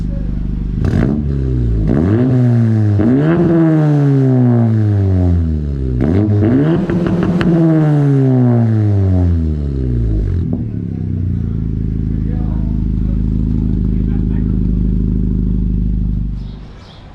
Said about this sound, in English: Got the AWE exhaust on. It sounds fucking amazing, yo.